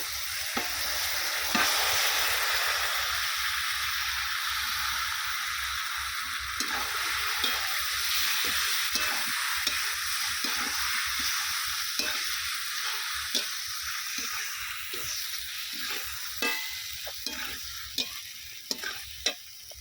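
Cooked pasta being stirred and fried in a pan with tomato and onion: steady close sizzling under repeated scraping and clinking strokes of a spoon, with denser stirring clatter in the second half.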